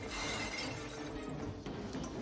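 Glass shattering in the 1997 creature film The Relic, a dense, sustained crash of breaking glass and debris with a fainter clink near the end, loud and without speech.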